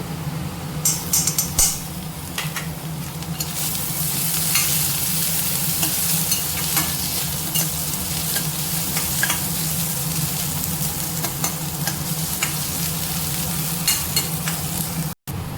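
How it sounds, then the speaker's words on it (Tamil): Sliced onions sauté with crushed ginger and garlic in a hot pan, making a loud, continuous sizzle broken by frequent stirring scrapes and clinks, with no voices. "வெங்காயம் ஓரளவுக்கு வதங்கிடுச்சு. இப்போ பார்த்திங்கன்னா தட்டி வச்ச இஞ்சி பூண்டு சேர்த்துக்கிறேன்."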